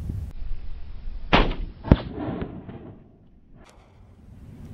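Gunshots at a shooting range aimed at targets such as cans, two sharp cracks a little over half a second apart with a fading echo, followed by a fainter distant pop.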